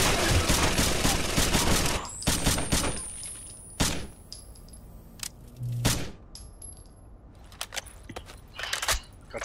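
Gunfire from a weapon in a shooter game: a dense burst of rapid shots at the start, then separate sharp single cracks and short bursts spaced a second or two apart, close and loud, with faint metallic clinks between.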